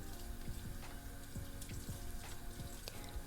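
Water runs over hair at a hairdresser's wash sink, a steady close splashing rush with small irregular drips and splatters, no voices.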